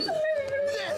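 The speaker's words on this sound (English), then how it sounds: "Damn, that is a dog." A cartoon dog from The Looney Tunes Show lets out a single high, drawn-out whimper that slides gently downward over about a second, close and clear.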